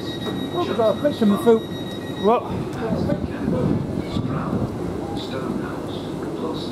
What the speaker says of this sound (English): Oh, that's our train coming in shortly.